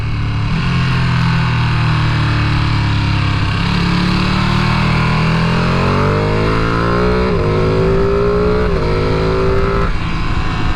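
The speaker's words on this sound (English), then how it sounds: "it gives a lovely burbling sound when you're coming off the throttle and going down the gears" A Ducati Panigale V2 engine runs loud and close, its revs rising and falling through gear changes with a rough, continuous burble under wind rush, no voices heard.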